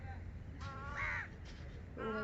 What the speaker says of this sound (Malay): Tu ada burung lah.